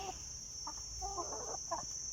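Soft, sparse clucking from chickens close by as they are fed papaya leaves, a few short bursts against a steady high-pitched hum and low background noise.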